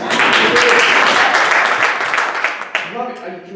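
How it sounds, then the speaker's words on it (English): Audience applause at a TEDx talk, a dense wash of many hands clapping that fades after about two and a half seconds, with a voice starting to speak as it dies down. "I can make you applaud"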